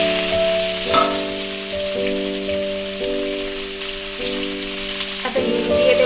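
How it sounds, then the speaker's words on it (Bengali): Pumpkin pieces frying in oil in a pan, a loud steady sizzle with crackling spatter, while a few sustained musical tones sound underneath throughout. "কুমড়োগুলো ভেজে নেব।"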